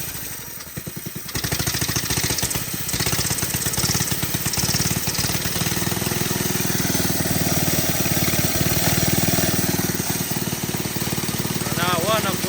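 A vintage Briggs and Stratton small engine running loudly and close, a rapid, steady chugging hammer of firing pulses that starts up after a second and keeps going evenly throughout.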